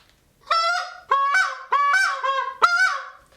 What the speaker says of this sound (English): So here's how you should not blow a goose call.